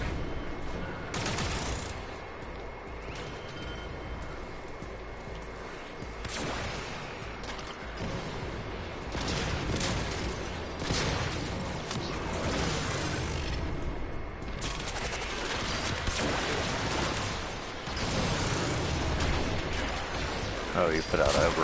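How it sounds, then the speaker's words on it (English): Loud bursts of weapon fire and blasts in Warframe on PS4, booming repeatedly over a dense game soundscape with scattered impacts throughout. "You should hear explosion soon enough."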